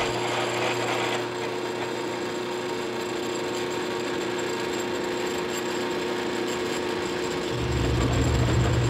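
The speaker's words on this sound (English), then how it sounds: "We'll drill a couple holes in here." Power drill with a step bit boring holes into a metal tube on a Jeep Comanche build project, a continuous whirring grind running throughout at moderate level, dropping briefly then rising louder near the end, with no voices.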